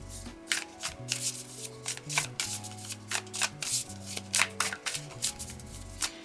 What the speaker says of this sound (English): Let's continue to pull some cards.